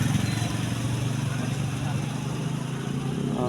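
A Star 175 motorcycle runs close by with a steady, droning engine note that holds evenly at a fairly loud level throughout the clip.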